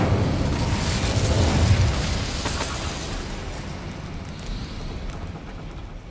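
The Incendio fire spell cast in Hogwarts Legacy, a dense, roaring burst of flame that starts at full strength and rumbles on steadily, slowly easing off over several seconds.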